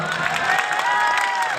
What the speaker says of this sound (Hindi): ये सब पौए के नाम पे तालियां बजी है।